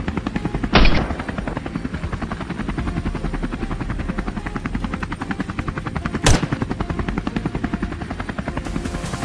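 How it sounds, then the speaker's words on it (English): A helicopter's rotor thumps in a steady rapid pulse throughout, loud and close, with two sharp bursts cutting through the drone. "The helicopters roared into the sky, shattering the usual calm."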